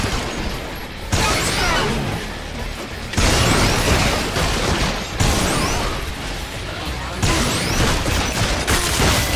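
Dense automatic gunfire bursts in the shooter Hard Reset, played on hard difficulty, loud and continuous with sharp impacts and crashes layered throughout, no talking.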